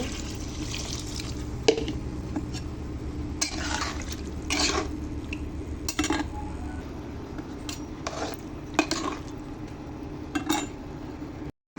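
Water poured into a pan of fish and tomato bhuna curry, a continuous sizzle and bubbling liquid with occasional clinks of a spoon stirring against the pan, close and steady throughout.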